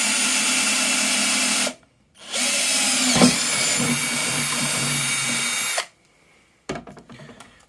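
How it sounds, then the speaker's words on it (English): A power drill with a twist bit drilling metal whirs loudly in two long bursts separated by a brief pause, followed by short scraping and clicking noises. "I've used the twist drill, which is marked for metal use."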